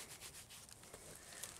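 An old, thick, heavy metal coat button dug up while metal detecting is rubbed clean by hand, a soft, faint, continuous scratchy rubbing with slight pulses and no talking.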